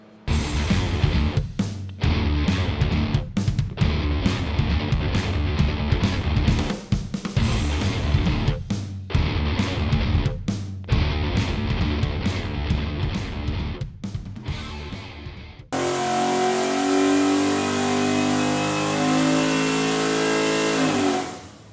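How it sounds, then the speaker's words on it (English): A 575-horsepower 427 small block Ford on a dyno, roaring loudly at steady high revs for about fifteen seconds with brief throttle lifts, then shifting to a smoother sustained drone with rising harmonics until it cuts off. "this is going to be a 575 horsepower, 427 small block Ford."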